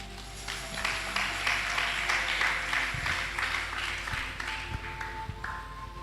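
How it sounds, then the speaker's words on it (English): A church congregation claps their hands together in a steady burst of applause that fills the room for several seconds and then thins out, with a few voices faintly underneath. "You do clap hand for what I just said."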